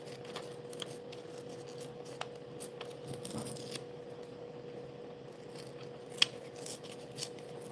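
Scissors cut a page out of a book, making soft, close snips and paper rustles at scattered intervals over a quiet background.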